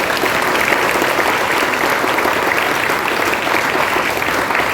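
Dense, steady applause from a crowd at a mimicry show in a Sai Baba temple in Goa, with loud continuous clapping that holds at an even level throughout and has no pauses.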